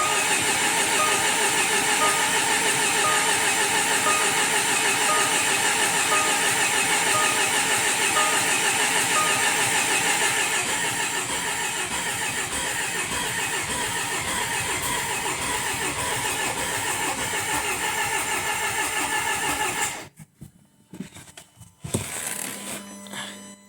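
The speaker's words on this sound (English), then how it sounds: "give the starter motor a bit of time just to cool down" A Jaguar F-Pace's rebuilt 204DTD engine is cranked by its starter and fires up. A loud, steady engine roar runs for about twenty seconds, then cuts off abruptly, followed by a few short clattering bursts.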